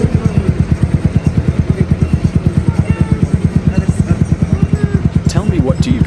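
A SYM Husky 125 motorcycle with an upgraded exhaust idles close by, giving a loud, rapid, steady lumpy putter with regular pulses throughout.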